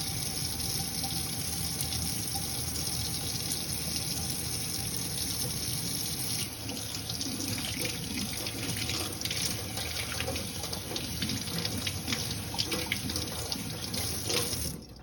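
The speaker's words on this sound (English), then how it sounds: "Then we apply the soap. Rub for 30 seconds." Steady, loud stream of water from a kitchen tap running into a sink during handwashing with soap, a continuous rushing sound throughout with a slight shift in tone partway.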